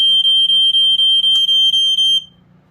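Montgomery Wards 84-7 smoke alarm sounding its test alarm: a loud, shrill, rapidly pulsing beep repeating about nine times in an even rhythm, then stopping abruptly.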